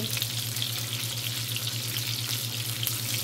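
Pot roast cooking in a pot, a constant dense bubbling sizzle with a low steady hum underneath, close and even throughout, no voices.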